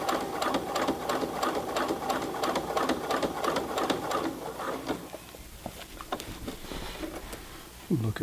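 A Brother PC 420 sewing machine hems heavy Levis jeans, rapid mechanical stitching chatter close up that slows and becomes more sporadic near the end, ending with a brief rustle.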